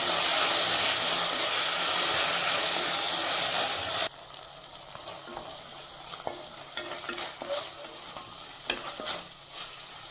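Onion and tomato are sautéed in a pan, opening with a loud, steady sizzling hiss. It then drops to quieter cooking underneath, with close, irregular clatters and scrapes of stirring and no speech.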